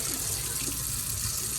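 Water runs from a kitchen tap into a bowl in the sink to rinse homemade butter, a steady close splashing stream that fills the whole moment without pause.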